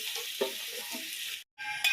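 Onion, ginger and garlic frying in hot oil left from frying chicken for biryani, a close, soft sizzle with light stirring, briefly cut to silence before the sizzling resumes.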